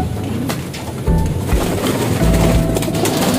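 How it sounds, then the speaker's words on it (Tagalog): Racing pigeons coo nearby in two low, soft bursts over a faint steady background hiss. "Eto mga kalapatids"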